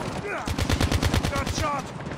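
Automatic gunfire in Call of Duty Mobile, a fast even burst of about a dozen close, punchy shots in a steady rhythm, with game voice callouts faintly underneath.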